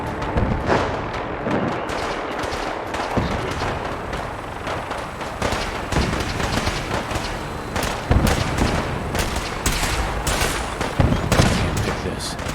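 Gunfire in Fallout 4 during a battle at Bunker Hill: dense, continuous shots and bursts pile up over a loud, chaotic backdrop, with no gaps for a long stretch.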